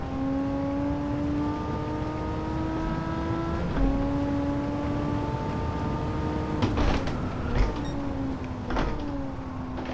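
A Porsche Carrera RS sliding through low-angle drifts in Gran Turismo 7, its engine holding a steady rising-and-falling harmonic whine throughout, with brief bursts of tyre and gear noise toward the end.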